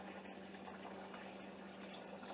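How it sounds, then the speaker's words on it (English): Hot water poured into a pressure canner, a faint, steady rushing and splashing that runs without a break, with no voices over it. "So I put in my 8 cups of hot water."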